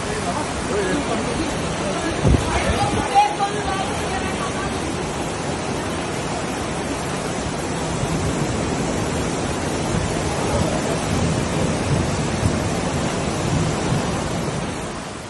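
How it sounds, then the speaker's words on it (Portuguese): Heavy rainstorm over a town in Paraná, Brazil: a dense, steady roar of downpour fills the whole stretch, broad and constant with a brief louder burst early on, while people talk faintly beneath it. "Veja que chuvarada, olha como ficou a cidade."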